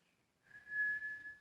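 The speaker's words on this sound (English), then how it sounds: "Purse the lips to whistle." A person whistles a single steady, sustained tone through pursed lips, thin and fairly quiet, heard alone in a still room.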